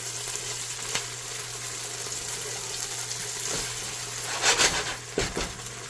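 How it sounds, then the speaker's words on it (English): Continuous soft sizzling of onions frying in a pot, with occasional clinks and scrapes of a utensil against the pot. "it's actually now starting to fry and not really steam the onion"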